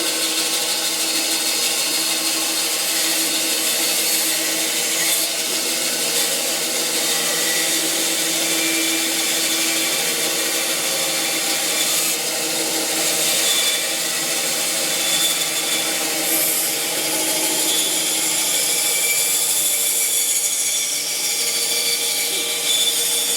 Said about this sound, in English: just to make these folding, I'm going to arc one side with the saw